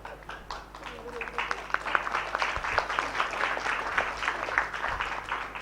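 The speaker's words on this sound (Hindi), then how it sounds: "ताली बजा रहे हैं।" Audience applause at a Hindi spiritual discourse, a steady patter of many hands clapping at moderate loudness throughout, with a voice speaking faintly underneath.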